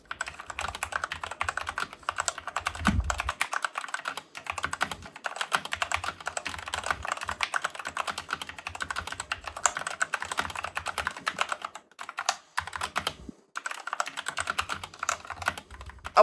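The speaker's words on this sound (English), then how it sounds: "you can still hear the mechanical clicks" Rapid, continuous typing on an AOC GK530 mechanical keyboard, dense clicking keystrokes with a few brief pauses, close and clear with no voices.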